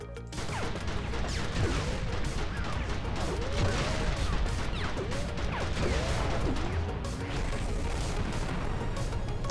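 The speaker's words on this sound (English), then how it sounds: "That was a big explosion for such a small" Explosions and crashing blasts from a Mechassault mech mod in Garry's Mod, a dense stream of bangs and whooshing shots over a steady rumble, fairly faint and with no talk.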